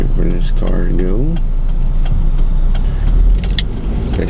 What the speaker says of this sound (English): Wait for this car to go.